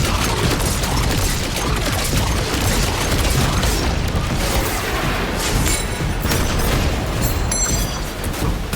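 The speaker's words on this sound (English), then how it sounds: "we're gonna do the aerial barrage" Aerial barrage explosions in Destiny 2 rumble on without a break, a dense, loud wall of booms and bursts. Brief sharp pops and crackles rise on top near the end.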